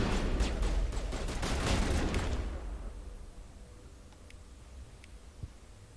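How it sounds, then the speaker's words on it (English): Shotgun blasts aimed at an enemy in Mass Effect: Legendary Edition, a rapid run of loud, close booming shots over about two seconds, then fading into quieter ambience with a couple of faint ticks. "He's taken like 8 shots from the shotgun."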